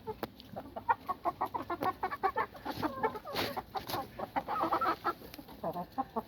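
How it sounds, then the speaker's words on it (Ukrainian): A rooster with golden feathers clucks in quick, repeated bursts, close and fairly loud, with a brief rising squawk in the middle and no speech. "Ось ще який півень у мене красивий."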